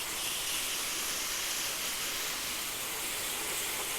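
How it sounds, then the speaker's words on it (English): Water sprays steadily onto an old air conditioner unit, rinsing off degreaser left to soak, a continuous even hiss of running water close by with no pauses or voices. "I'll just give this a bit of a rinse off."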